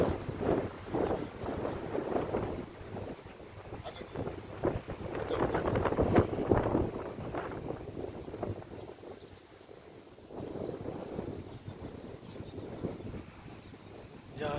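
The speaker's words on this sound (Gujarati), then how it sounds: "પવન પણ પવન પણ ખૂબ જ સરસ રીતે છે" Wind gusts buffet the microphone as a low, rumbling roar along a dirt road to a roadside shrine with fluttering flags near Kotda Sangani and Ramod, rising and falling in strength throughout.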